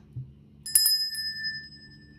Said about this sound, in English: So note when we ring the bell